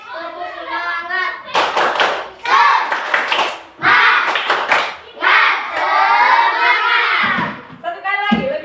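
Classroom of students doing a rhythmic 'spirit clap' chant, bursts of group clapping mixed with loud shouted voices in repeated pulses, close and energetic.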